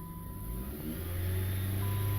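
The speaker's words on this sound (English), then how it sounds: "So now you'll see when I go to push the throttle in, I'll put it right to the floor" A Jeep Compass, Jeep Patriot or Dodge Caliber engine revs as the throttle is floored, a close, steady rising drone that climbs in pitch and loudness over two seconds.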